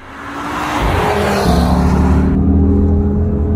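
A new 400-horsepower Audi RS3 engine revs up and accelerates hard, loud and close, its roar climbing and then holding at a steady high drone.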